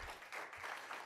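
Audience clapping at a Sunday evening winter lecture series, a short, soft burst of steady applause from a crowd with no voices over it.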